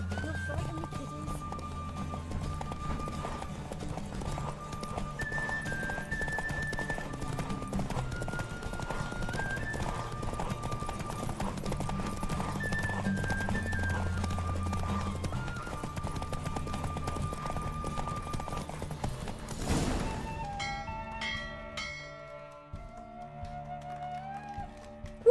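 A horse gallops in a race in the video game The Witcher 3, rapid rhythmic hoofbeats driving under music with a neigh, then the pounding stops near the end as the score continues with a voice.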